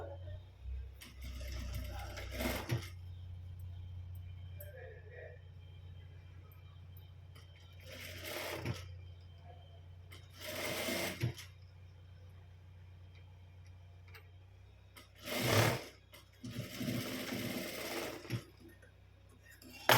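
A sewing machine stitches a puff sleeve in several short, close bursts of rapid mechanical whirring separated by quieter pauses, with faint handling noises and possible speech between runs.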